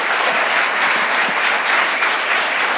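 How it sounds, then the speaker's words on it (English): Audience applause at a 2017 poetry festival reading, a dense, steady wash of clapping from a packed room that holds at an even level throughout with no voices over it. "Give them a rousing applause."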